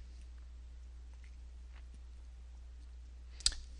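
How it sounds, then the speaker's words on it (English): A single sharp mouse click on a publish button, close and distinct near the end, following quiet stillness over a low steady hum. "Then I click publish."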